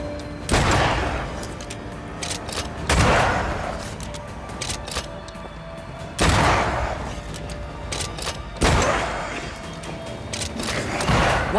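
Gunfire in the game Banishers: Ghosts of New Eden, aimed at a hanging lantern: four loud, sharp shots spaced a few seconds apart, each with a booming tail, over a low ambient bed.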